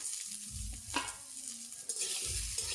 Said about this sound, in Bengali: এর মধ্যে আলু আর টমেটোগুলো দিয়ে দেবো